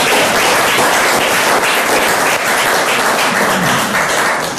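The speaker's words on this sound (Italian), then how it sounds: "a cui fare un applauso per tutti." Dense, loud applause from a lecture audience at an education and neuroscience summit in Florence, a steady roar of many hands clapping continuously and close, with no talk over it.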